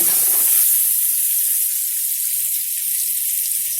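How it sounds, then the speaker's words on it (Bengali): Soaked, squeezed soybean chunks fry in hot oil with a loud, steady broadband sizzle and hiss, close up and continuous with no talking. "অনেকে সয়াবিন ভাজে না, আমি একটু সয়াবিন ভেজে নেব"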